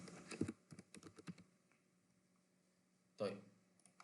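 Text is typed on a computer keyboard in quick close clicks over the first second and a half, then a pause and a final burst of key noise, quiet overall.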